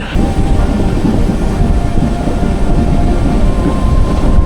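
The Coimbatore–Tirupati Intercity Express with LHB coaches rumbles loudly and steadily along the tracks near Erode, a continuous heavy roar with a faint metallic hum throughout.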